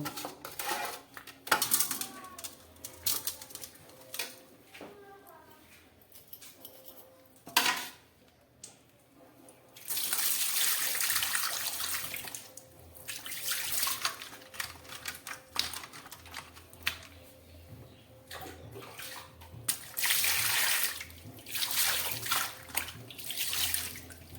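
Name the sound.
washing a whole fish under running water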